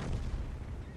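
Tank cannon shot in World of Tanks, a low booming blast with dense rumble filling a single second, moderately quiet.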